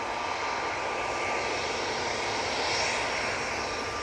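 An EasyJet airliner taxis toward the runway at Manchester Airport, its jet engines giving a steady, continuous roar at moderate distance with no talk over it.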